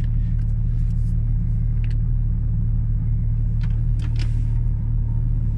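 A 2016 Porsche 911 GT3 RS with a tuned exhaust drives along, its engine giving a steady, loud, low rumble that holds constant throughout, with faint higher clicks and rattles above the drone.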